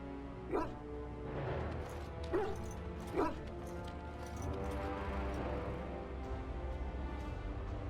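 A dog companion in the fantasy role-playing game Dragon Age: Origins gives three short, sharp barks early on, then a thin whimpering whine. Game ambience hums underneath throughout.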